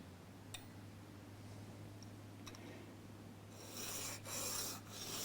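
Abrasive rasping of sandpaper rubbed over a guitar pickup part on a Hartwood 335 copy during a pickup swap, a few faint ticks early, then louder strokes toward the end, close and alone.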